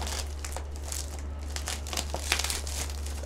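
A plastic bag crinkling and rustling close up as it is opened during the unboxing of a mystery box, steady crackling with sharper bursts and no talk.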